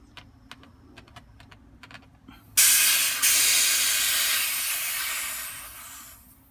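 An air hose bleeding off pressure at the fill valve of an Edgun Lelya airgun: a few light clicks, then a sudden loud hiss of escaping air that slowly fades, with no speech.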